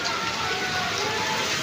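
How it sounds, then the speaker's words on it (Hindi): Heavy rain with a storm and strong wind pours down in a dense, steady hiss with no pauses, fairly loud and close. "तेज़ बारिश भाई तेज़ बारिश"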